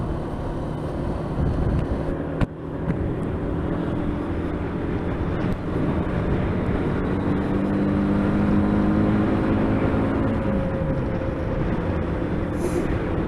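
A small motorbike cruises along a country road toward Hungerford, its steady engine drone mixed with constant wind rush, holding a loud, continuous level with no talking.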